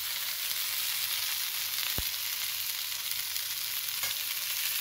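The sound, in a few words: eggplant slices frying in a little oil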